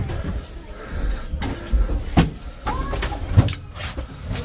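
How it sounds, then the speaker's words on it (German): A door on a Soviet Antonov An-22 Antey turboprop transport aircraft opens or shuts with a few sharp knocks and clunks amid a busy, rumbling cabin. Other handling sounds surround it. "Die Tür."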